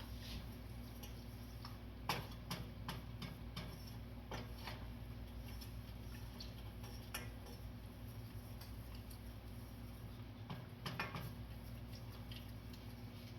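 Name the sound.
stirring ingredients into salve mixture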